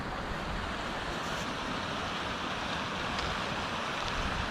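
A small creek in Georgia, a narrow shallow stream beside a road, makes a steady broadband rush of flowing water, constant and fairly close, with no voices.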